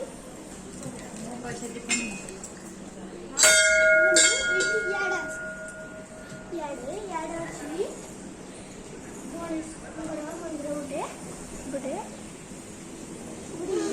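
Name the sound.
temple bell ringing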